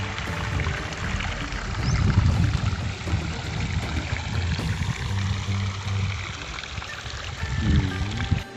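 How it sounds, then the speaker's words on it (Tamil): Water pours steadily into a large village pond as it fills, a continuous rushing gurgle heard close up, with no voices. "பெரிய கம்மா தான் நிறைஞ்சு போகுது தண்ணி."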